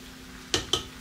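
Cabbage stirred into a pot of minestrone soup gives two quick, close scraping clinks of a utensil against the pot over a faint background hum.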